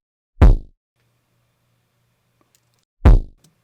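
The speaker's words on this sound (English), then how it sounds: "So this kick drum, Big Bop Kick, is from Drums That Knock, Volume 8." Big Bop Kick drum sample from the Drums That Knock Volume 8 pack, a deep, punchy kick struck twice, loud and isolated, with a few seconds of silence between the hits.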